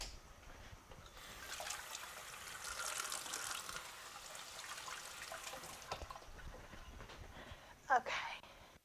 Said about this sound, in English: let me rinse up real quick